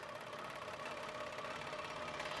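An HQ Pro-Stitcher computerized quilting machine stitching an edge-to-edge pattern, a steady faint mechanical hum with rapid, even needle rhythm running continuously.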